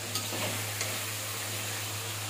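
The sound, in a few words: lobster curry being sautéed and stirred in a pan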